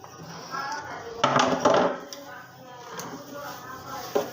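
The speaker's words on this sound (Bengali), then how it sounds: "এখন এই টুকিটাকি কাজ, থাল বাসন ধুয়ে একটু চুলা পরিষ্কার করে নিচ্ছি।" Plates, pots and pans being washed at a home kitchen sink: close, irregular clinks and clatters of metal and crockery, with a couple of louder knocks and a voice in the background.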